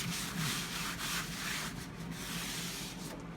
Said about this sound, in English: you just rub it into the cast iron stove